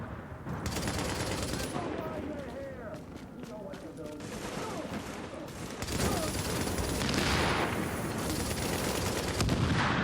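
Gunfire in The Division, a shooter video game: dense, continuous bursts of rapid shots and explosive cracks, loud throughout, with speech and voices mixed in beneath the firing.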